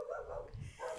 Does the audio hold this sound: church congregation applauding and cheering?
no